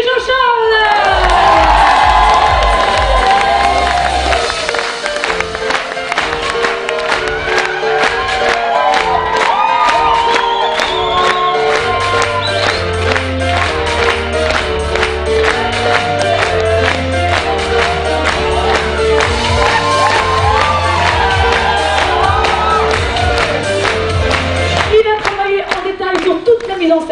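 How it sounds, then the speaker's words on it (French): An audience at a stage show in Millau claps, cheers and whoops for the trainers and lighting technicians while loud music plays throughout, with excited shouts rising above the steady clapping. "J'aimerais un tonnerre d'applaudissements pour nos formateurs, techniciens en lumière, Céline et Jean-Charles."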